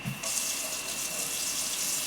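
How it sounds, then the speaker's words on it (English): Water at about 105 degrees runs from a kitchen tap for proofing yeast when baking bread, starting with a brief splash and then flowing as a steady, moderately loud hiss. "So, with that said, let's put some water on it."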